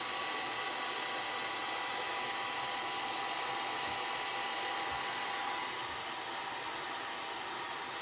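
Heat gun warming a vinyl hood scoop overlay decal on a Toyota Tacoma or 4Runner, a steady, fairly quiet blowing whir that holds on and drops slightly near the end, with no talking.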